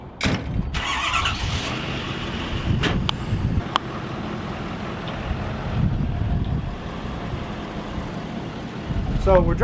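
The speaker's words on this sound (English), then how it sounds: "So we're driving the Bearcat right now" A Bearcat armored vehicle drives along a road in Las Vegas, a steady low rumble of engine and road noise buffeted by wind, with a few sharp clicks and a voice talking over it.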